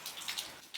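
Light drizzle pattering outdoors at a mountain cooking spot, a soft steady hiss of fine drops with a few slightly louder taps, faint and close, with no voices.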